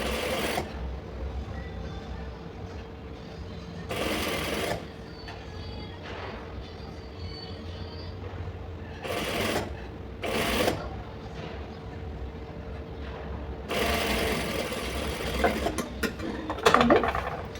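Sewing machine stitching patchwork fabric, running in short whirring bursts with pauses between, fairly quiet and close, with faint background noise and no clear talk.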